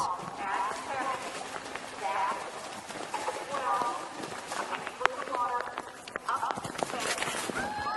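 Horse hooves thud and clatter at a gallop on a three-day event cross-country course at the Kentucky Three Day Event, under steady commentary from a speaker with crowd noise behind.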